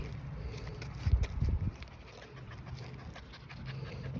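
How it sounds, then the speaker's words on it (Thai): A stray puppy pants in short, soft breathy bursts close by, with a louder flurry near the middle before settling into quieter breathing and light movement. "ลูกหมา"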